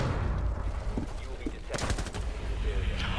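Gunfire in Rainbow Six Siege, a few sharp bursts of shots over a steady noisy game background, with a brief burst around the middle and faint crackles near the end.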